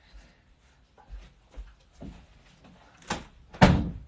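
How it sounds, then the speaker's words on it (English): An indoor door pushed shut with a couple of soft thuds and a firmer knock near the end, heard close by in a quiet room with no talking. "Close the door, please."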